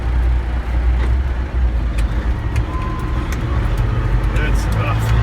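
A Peterbilt 359 truck's diesel engine idles with a steady low rumble while the driver shifts into reverse, the drone continuous and close throughout, with a voice speaking over it.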